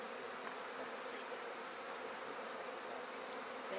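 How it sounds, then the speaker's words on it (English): Honey bees from an open hive buzzing during a fall inspection, forming a dense, steady, close swarm drone that fills the whole stretch without pause and with no voices over it. "The bee army, yeah."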